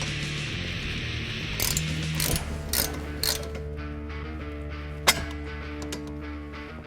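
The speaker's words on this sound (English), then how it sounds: "Next, remove the bolt for the rear shock." Ratchet wrench working loose the rear shock bolt on a 2011-2014 Mustang, a run of quick clicking ratchet strokes in short bursts over a steady low hum, ending with a sharp metallic clack, close and clear.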